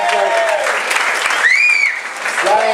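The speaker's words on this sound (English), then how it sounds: "Could you give my amazing Deputy Controller and Chief of Staff a round of applause?" An audience at a Bronx town hall applauds the deputy comptroller and chief of staff, a dense, steady wash of clapping filling the room, with a few voices mixed in.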